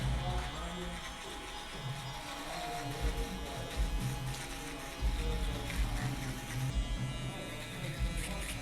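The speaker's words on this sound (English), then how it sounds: "what I like to do is I like to tap, then circle, and then shave up towards the bottom" Electric hair clipper buzzes continuously up close while shaving up a mid-high fade on a short crop, its steady hum shifting as it moves against the head, with soft talking underneath.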